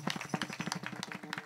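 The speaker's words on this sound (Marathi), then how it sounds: "टाळ्या वाजवा महाराजांच्यासाठी" An audience at a kirtan devotional gathering clapping for the Maharaj, quick, rhythmic, evenly paced claps heard faintly for a brief moment.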